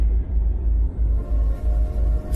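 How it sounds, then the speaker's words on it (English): An approaching train in a horror game: a heavy, continuous low rumble with pulsing swells, loud and close, and a hiss rising at the very end. "the only resemblance from the normal world was the sound of a train coming my way."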